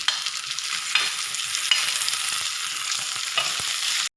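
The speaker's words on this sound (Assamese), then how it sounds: "বিলাহীখিনি নিসিজালৈকে আমি ইয়াত লৰাই ৰাখিম" Tomatoes stirred with meat in a sizzling frying pan, a steady frying hiss broken by scraping strokes of the spoon, close and fairly loud.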